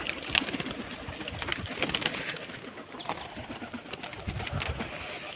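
Pigeons sitting up high and cooing softly, faint low calls with a few small chirps over quiet background noise.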